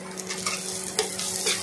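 Chopped onions fry in a pan while being stirred, giving a steady sizzle with soft scraping and clinks from the utensil, near and continuous, with no talking.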